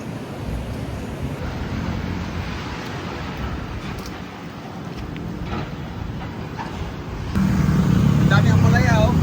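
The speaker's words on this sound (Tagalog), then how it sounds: "It's so windy." Strong wind gusts across the microphone outdoors on a city street in BGC, Philippines, a steady blustery rush with low rumbling buffeting that grows louder near the end, with brief voices in the background.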